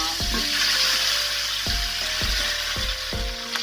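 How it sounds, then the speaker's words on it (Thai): Pork skin fries in hot oil with a steady, loud sizzle throughout, punctuated by a few sharp, brief tones. "ทอดนิดนึงเนาะดัดให้หนังเทียมกรอบนะคะ"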